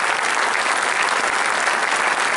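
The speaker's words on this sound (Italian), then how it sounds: "Quindi io farei un applauso più forte di tutti a quelli che non sono visibili" An audience claps for volunteers at a public gathering, dense, steady applause filling the whole stretch with no pauses.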